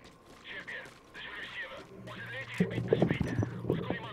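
Someone talks while horse hooves clip-clop in the video game Metal Gear, and a short whinny sounds near the end.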